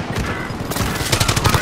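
Rapid automatic gunfire in Call of Duty: Modern Warfare, loud and close, with a quick rattling string of shots in the latter half over a dense battle backdrop.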